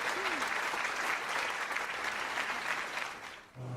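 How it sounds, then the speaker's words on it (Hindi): A group of girls claps and applauds in a dense, lively burst that carries evenly for a few seconds, then drops off abruptly near the end. "लड़कियां इसके लिए ताली बजा रही हैं बॉस।"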